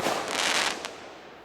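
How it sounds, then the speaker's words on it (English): A Moody Blue 12-shot firework cake going off, blue high and low, a loud near roaring burst of crackling shots that fades away within a second or so. "Moody Blue. It's a 12 shot cake. Blue high and low."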